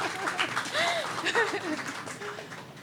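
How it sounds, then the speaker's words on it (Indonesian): Guests at a wedding at Alila Villas Uluwatu, Bali, applaud in a lively wash of clapping, with voices and cheering mixed in. "berikan tepuk tangan yang paling meriah"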